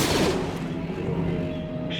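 Blaster gunfire in Star Wars Jedi Fallen Order on Kashyyyk, a burst of sharp shots at the start decaying into a ringing tail with a faint tonal hum underneath.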